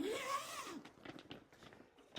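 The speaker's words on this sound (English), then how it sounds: "It's all zippered." A zipper runs along a fabric under-bed storage bag with a see-through top, one quick bright pull followed by softer rustling and handling of the fabric, close and fairly quiet.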